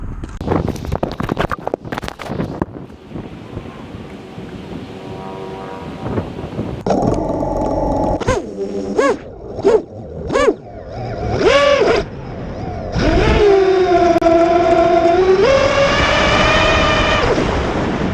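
A 9-inch quadcopter with BrotherHobby Reunion 2318 890 kV motors whines close by, rising and falling in short throttle bursts, then holds a loud, steady high whine after some clattering handling noise at the start.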